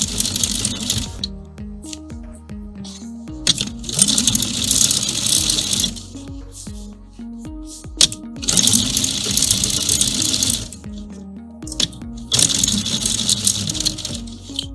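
A sewing machine stitches a pant hem in a straight stitch, running in loud, close rattling bursts of a few seconds each, separated by short pauses.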